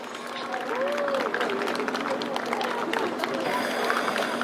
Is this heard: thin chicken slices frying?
no